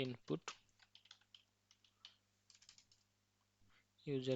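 Rapid, irregular clicks of typing on a computer keyboard while entering code, light close keystrokes in uneven bursts under a low steady hum, with a person's voice briefly at the start and end.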